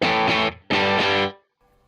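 Electric guitar played through a Walrus ACS1 amp pedal with the gain turned nearly all the way up. It gives two loud, distorted strummed chords, each ringing briefly and then cut off, with a faint hum at the end.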